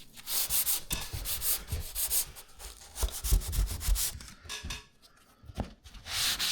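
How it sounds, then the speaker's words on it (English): Rhythmic scratchy rubbing of sandpaper on a ceiling expansion joint, strokes repeating in quick bursts with short pauses, close and fairly loud. "Now I start all the sanding."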